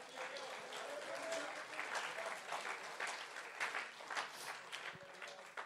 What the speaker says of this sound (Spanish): Fuerte el aplauso para Cristo.